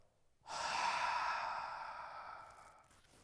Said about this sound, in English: let's hear a big exhale